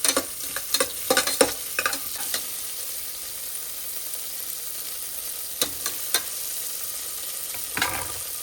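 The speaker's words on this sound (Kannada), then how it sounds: "ಈರುಳ್ಳಿ ಒಂಚೂರು ಟ್ರಾನ್ಸ್ಲೂಸೆಂಟ್ ಆಗೋ ತನಕ ಚೆನ್ನಾಗಿ ಹುರ್ಕೋಬೇಕು." Chopped medium onions fry in a pan with a steady low sizzle, broken by bursts of scraping and clattering as a spatula stirs them, busier at the start and again near the end.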